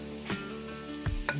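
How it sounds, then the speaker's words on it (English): Zucchini and carrot sizzling in hot oil for stir-fried udon, a soft steady crackle with a few brief clinks and stirs from the pan, fairly faint and without voices. "now the oil is heated and I will be adding the veggies"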